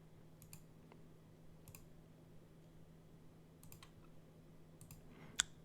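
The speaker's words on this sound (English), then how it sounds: "So I'll just go ahead and click here." Several light, crisp computer mouse clicks scattered through a quiet room with a low steady hum, sparse and close, with a slightly louder pair of clicks at the very end.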